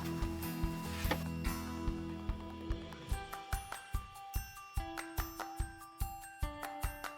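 A sewing machine stitches through thick wallet layers at slow speed, giving a close, mechanical run of rapid rhythmic clicks that spaces out into distinct, evenly timed needle strokes.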